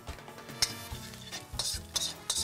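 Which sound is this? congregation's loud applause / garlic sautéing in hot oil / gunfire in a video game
garlic sautéing in hot oil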